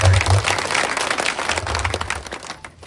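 Applause from an audience at the Nagoba Jatara village gathering in Keslapur, Adilabad: dense, steady clapping that fills the whole clip and thins out only near the end.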